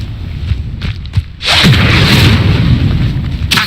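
Incendio fire spell cast in Hogwarts Legacy, a loud whooshing burst of flame that erupts suddenly and roars steadily for a couple of seconds after some softer rumbling thumps.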